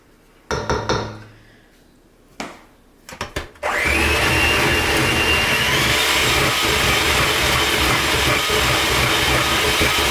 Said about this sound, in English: This beater doesn't have a low enough speed.